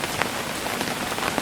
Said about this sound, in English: just watch it hammer and storm the rain